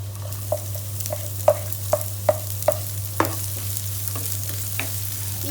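Ginger-garlic paste sizzles in a pan for curd rice, with a low steady hum underneath and a series of sharp, evenly spaced clicks of a spoon stirring against the pan. No voices.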